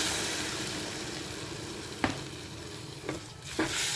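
Water goes into hot leftover masala in a pan for a quick Maharashtrian-style brinjal dish, giving a steady frying sizzle with a few sharp hissing bursts and stirring clinks, close by.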